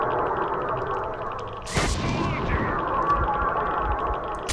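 A single sharp sniper rifle shot cracks out in the middle of STALKER Shadow of Chernobyl gameplay, then tails off over a steady background of game ambience.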